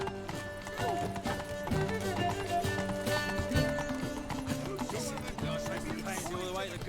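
Roach, a horse in The Witcher 3, clops along with a steady hoof rhythm beneath loud game music, and voices speak over it.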